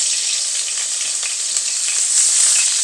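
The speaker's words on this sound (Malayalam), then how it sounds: "പച്ചമുളക് നന്നായിട്ടൊന്ന് ഫ്രൈ ആകണം" Green chilies fry in coconut oil with popping mustard seeds, a loud, bright, steady hiss and crackle heard close up without pause and with no voices.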